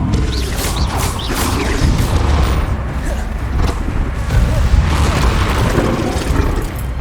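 Confringo and Bombarda spell blasts in Hogwarts Legacy go off in a dense, continuous barrage of booms, crashes and clattering impacts, loud and close throughout, with no pause between hits.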